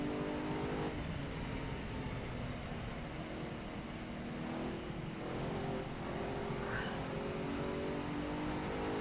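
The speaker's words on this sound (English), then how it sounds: "Sounds like a LMP car" An LMP race car engine in the video game Assetto Corsa drones steadily at high revs, loud and continuous, with slight shifts in pitch and no voices.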